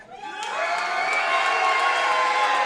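A live wrestling crowd in Paulsboro cheers for the tag team Pauliver, a loud, sustained roar of shouts and whoops that swells quickly and holds steady, with no distinct speech.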